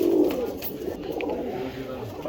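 Pigeons kept for sale, including a male, coo close by in a loud, throaty run that starts strong and then settles into a softer, steadier murmur.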